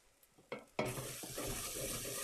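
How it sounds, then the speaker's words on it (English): Rice for steak and caramelized onion risotto sizzles and hisses in a hot pot as a wooden spatula stirs and scrapes the bottom, steady close frying after a couple of soft knocks, with no voices. "Scraping the bottom as I go with my wooden spatula"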